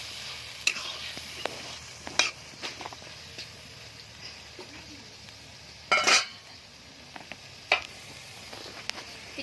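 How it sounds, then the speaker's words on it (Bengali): Turmeric-coated Bombay duck fish frying in spice paste, a quiet continuous sizzle punctuated by louder bursts of spatter and stirring clatter, close and without speech. "এখন আমি হলুদ মাখানো লোটে মাছটা মশলার ভিতরে ঢেলে দিলাম"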